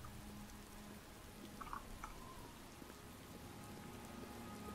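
Steady rain falls in the video game Oblivion near a lake basin, a soft continuous patter and hiss that stays even and faint throughout.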